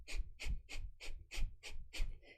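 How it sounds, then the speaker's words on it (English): Rapid nasal breathwork, with active exhales and passive inhales through the nose, comes as about eight sharp, rhythmic, evenly spaced puffs of air. They are close-miked, quiet and alone. "it's actually an active exhale through the nose and a passive inhale through the nose."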